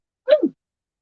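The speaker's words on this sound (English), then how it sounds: "I think I'm gonna sneeze." One short, sharp human sneeze, close and clear, standing alone in silence.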